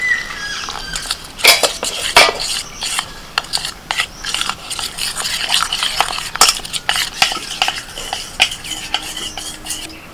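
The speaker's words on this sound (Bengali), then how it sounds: "গোলমরিচ গুঁড়ো, লবণ, অল্প অল্প জল দিয়ে গুলে একটা ব্যাটার তৈরি করে নেব।" Spoon or whisk stirring flour, ground pepper, salt and water into a batter in a bowl, a steady scraping and clinking of utensil against the dish with sharp taps, close and alone.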